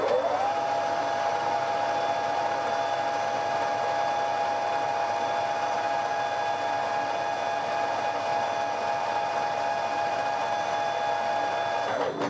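A lathe runs steadily while cutting a chamfer on a BSA B33 motorcycle wheel spindle, giving a constant close whine with bright tonal overtones. The sound stays level throughout and fades slightly at the very end.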